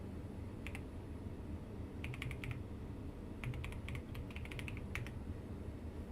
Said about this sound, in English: Am I typing it wrong?